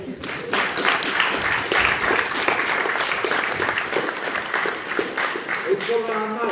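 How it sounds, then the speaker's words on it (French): An audience applauds a green-haired participant named Louise at an interactive show, continuous clapping and crowd noise mixed with overlapping voices throughout. "On peut applaudir à Louise"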